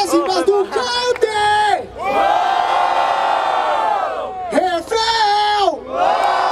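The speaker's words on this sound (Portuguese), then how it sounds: "escolhe um e grita com muita força" A loud crowd at a Brazilian rap battle semifinal in Barueri, São Paulo, shouting and cheering in long sustained roars, with brief dips between waves of yelling.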